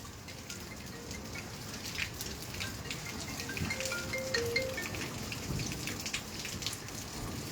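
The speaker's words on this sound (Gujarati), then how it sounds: "વરસાદ જે છે મિત્રો એ પણ બતાવીએ તમને" Rain falling in Halvad, a steady soft hiss of drops with scattered light drips, faint and continuous throughout.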